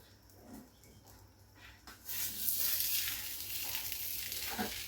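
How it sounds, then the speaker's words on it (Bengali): Palm-fruit pitha cakes set on a hot tawa griddle, quiet at first, then a loud broad sizzle bursts in and holds steady, close by with no talking. "চুলায় দিয়ে দিলাম তাওয়া। এবার দিয়ে দিব পিঠাগুলি।"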